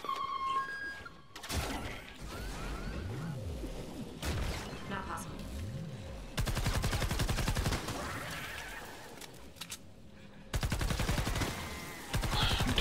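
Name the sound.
gunfire in video game Fortnite Save the World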